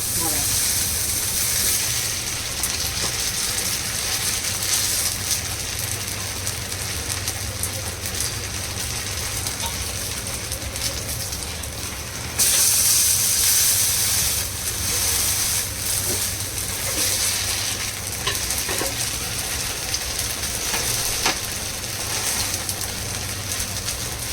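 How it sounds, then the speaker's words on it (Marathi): Sabudana cutlets of soaked tapioca pearls and potato sizzle in hot oil in a pan, a steady dense hiss with brighter crackling bursts partway through, continuous and close, with no talk over it. "याला हळूच फ्राय पलटी करूया कारण का तेल होतं ना अंगावर"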